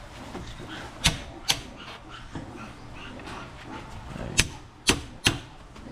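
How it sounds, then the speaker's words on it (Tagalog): A hammer drives a chisel into wood to cut a hole for a bamboo hut being moved. Sharp, close knocks come singly and in quick pairs over a low background murmur. "Pinapaitan na para butasan. Gamit yung pait at saka martilyo."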